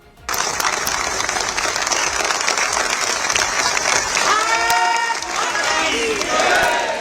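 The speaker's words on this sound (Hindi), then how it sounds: "उस वक्त पूरा हॉल तालियों की गड़गड़ाहट से गूंजता रहा।" A hall full of parliamentarians breaks into loud, sustained applause that runs unbroken for about seven seconds, with a few raised voices and cheers rising through the thunder of clapping.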